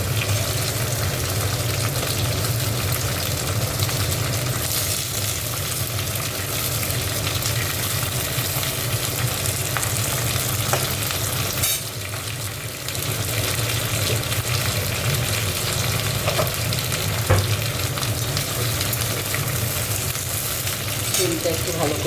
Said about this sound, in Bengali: শিমটা একটু ভালো করে ভেজে নেব